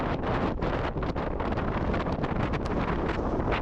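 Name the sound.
wind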